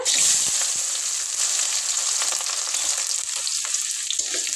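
Chopped onions hit hot oil and fry with a loud, dense, continuous hiss that stays steady throughout, close up, with faint stirring scrapes underneath.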